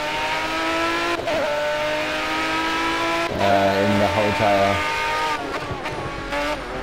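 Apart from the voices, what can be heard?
car engine and tyres in the video game Project Cars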